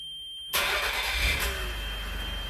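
A car engine is cranked and fires up abruptly after a quiet moment, then settles into a steady, close idle at around 750 to 800 rpm.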